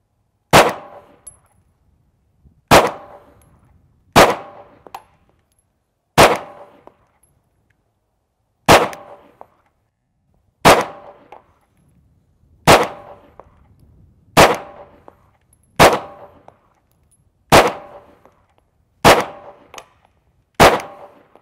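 TP9sa pistol emptying a magazine at steel targets outdoors: about a dozen sharp, loud shots, each followed by a ringing clang, fired at a steady pace with pauses of one to two seconds between them.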